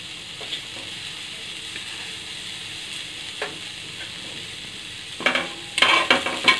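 Ponnaganti greens fry in a pan with salt, chili powder and turmeric, a constant close sizzle that swells into bursts of crackling and scraping stirs toward the end.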